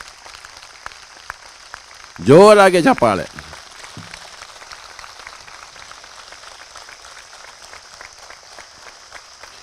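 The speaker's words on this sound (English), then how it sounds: "Claps to Pyramid Spiritual Society's movement" An audience at a Pyramid Spiritual Society gathering claps in a steady, scattered patter that runs the whole time, with a brief loud voice calling out near the start.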